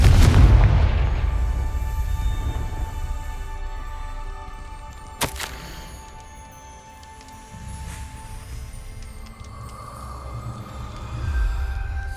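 A Confringo fire spell in Hogwarts Legacy erupts with a heavy rolling boom at the start, then a sharp single crack partway through over a low rumbling game ambience.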